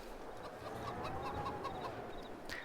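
Chickens clucking in the farming video game Farming Simulator 22, soft, repeated low clucks over a quiet background hum.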